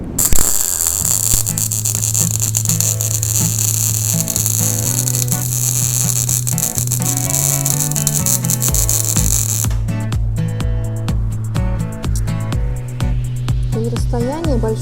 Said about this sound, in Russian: сейчас сделаю еще один шов